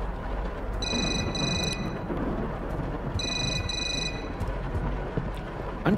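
A telephone rings upstairs in the horror game Suffer the Night, sounding as two bursts of bright, repeated trilling rings over a steady rumbling storm-like ambience with no talk.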